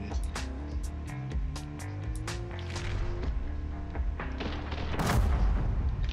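Machine gun fire in the top-down shooter The Hong Kong Massacre, sharp rapid bursts and single loud cracks ringing out over a thumping music beat, ending in a heavy boom.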